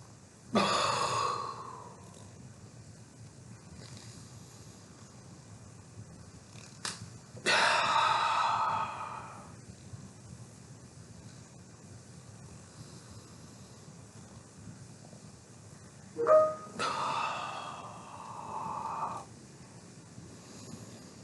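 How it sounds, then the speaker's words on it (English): Slow, deep breaths during a calming stress-relief exercise: a few soft, airy inhales and exhales spaced several seconds apart, close and quiet against a hushed room. "You touch it together with a deep breath."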